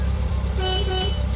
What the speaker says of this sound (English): Your horn.